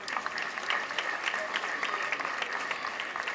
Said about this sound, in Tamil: முதல்ல இந்த அரங்கத்தில் இருக்கிற எல்லா ஆண்களுக்கும் ஒரு கைத்தட்டு.